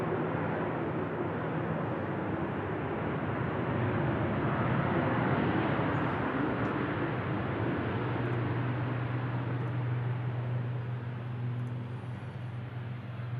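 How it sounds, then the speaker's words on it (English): Ryanair airliner arriving from Palma de Mallorca at an airport, a steady, loud broadband jet roar with a low rumbling hum that holds for the whole stretch, swelling slightly in the middle and easing toward the end. "In for Palma de Mallorca, Ryanair flight"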